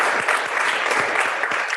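Attendees at a commission meeting applauding Juneteenth, a dense, steady patter of many hands clapping at moderate level with a few louder individual claps, no one speaking over it.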